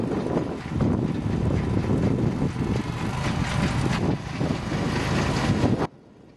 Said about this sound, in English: With these now smaller hills, the Oggun is able to run the digger properly.